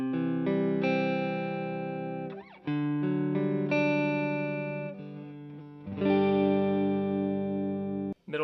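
Distorted electric guitar chords from an $85 Amazon Telecaster-style guitar on the neck pickup through a Fender Pro Junior amp with some added reverb, several sustained strummed chords ringing out with brief gaps between them.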